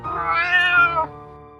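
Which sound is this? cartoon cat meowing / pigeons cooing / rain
cartoon cat meowing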